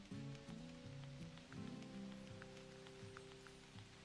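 Rain falls in a video game, a soft steady patter heard throughout beneath sustained musical tones from the game's soundtrack.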